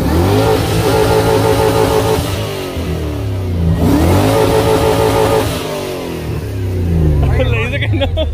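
A motorbike engine revs hard twice in a row, each time climbing, holding and dropping back, then starts a third rise; loud and close throughout.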